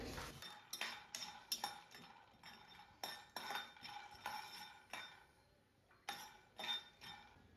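Peanuts roasting in a pan over a flame for coriander-mint chutney, giving sharp clinks and rattles in irregular bursts as they are stirred and tossed against the metal, close and alone.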